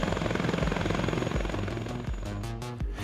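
AH-64 Apache attack helicopter, a large, heavy military rotorcraft, gives a steady loud rotor and engine drone with rhythmic blade pulses, alone without voices.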